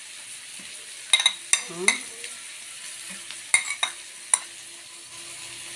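Garlic cloves and green pepper sizzle in a hot pan, a soft steady hiss broken by several sharp clinks and scrapes of a utensil against the pan, with a brief spoken word.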